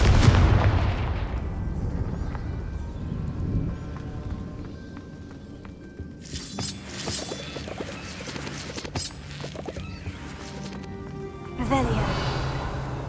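Spell-blasts in the Hogwarts Legacy video game ring out in bursts across the middle of the clip, sharp crackling impacts with a low boom at the start, set against game ambience and a spoken voice.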